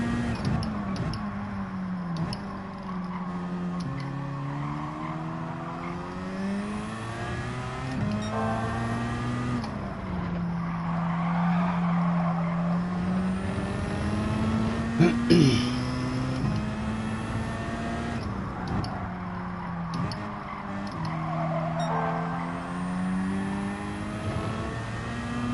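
Race car engines in Gran Turismo 7 during a track battle, a loud near engine climbing and dropping in pitch through repeated gear shifts and revs, with a brief sharp squeal or scrape midway, no talking.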